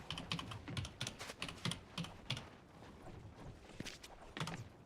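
Fast, uneven bursts of clicky keystrokes on a computer keyboard, close and fairly quiet, with brief pauses between flurries and no voices.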